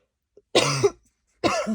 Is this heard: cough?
yes